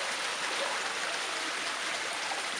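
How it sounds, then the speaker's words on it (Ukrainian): Rainwater runs off a roadway into residential yards as a steady, even rushing wash of water, moderately quiet and unbroken, with no voices. "уся дощова вода зі сторони траси біжить прямісінько у двори людей"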